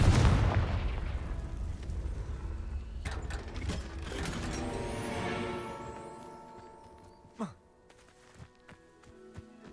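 Confringo spell cast in Hogwarts Legacy: a loud fiery blast burst at the start that decays into a shimmering, metallic ringing tail, followed by a few sharp magical zaps and clinks as the sound fades.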